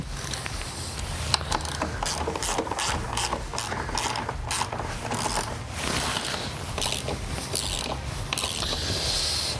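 A ratchet tightens the shock bolts on a KTM with a WP XPLOR PRO 8946 shock, giving steady, rapid clicking strokes in close succession, repeated in short bursts with no talking.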